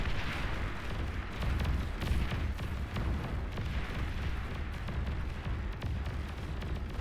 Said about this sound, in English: the explosion actually took out the other grunts